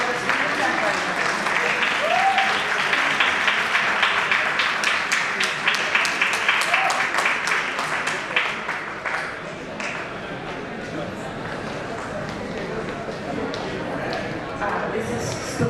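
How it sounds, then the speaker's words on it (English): Steady crowd applause fills a school annual day celebration hall for students and a student group, dense and sustained, fading slightly toward the end with faint voices beneath. "So big applause for the students and Parivartan"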